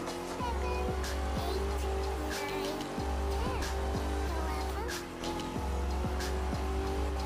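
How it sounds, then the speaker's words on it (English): A car drifts around a roundabout in the racing video game The Crew 2, its engine holding a steady roar while tires squeal in repeated bursts, with brief gear-shift dips, loud and close throughout. "I'm gonna just drift the roundabout"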